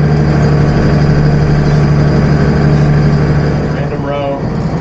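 A tractor engine pulling a rotary hoe across hay ground runs as a loud, steady drone with a strong low hum, continuous throughout, with a slight shift in tone near the end.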